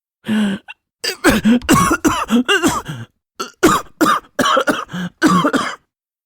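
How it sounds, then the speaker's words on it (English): A prolonged coughing fit: many harsh, raspy coughs in rapid clusters separated by brief pauses, close and loud. "A coughing fit overtook her"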